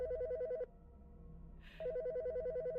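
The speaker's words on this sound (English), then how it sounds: "It's ringing." A telephone rings in two electronic bursts separated by a pause, loud and close, with a brief soft hiss between the rings.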